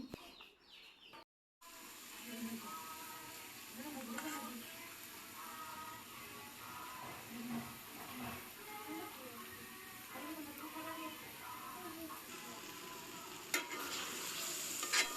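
Fish curry cooks in a home kitchen, frying and sizzling steadily in a pan while a utensil stirs and scrapes it. The sound stays fairly quiet, people talk over it, and a chicken can be heard faintly in the background.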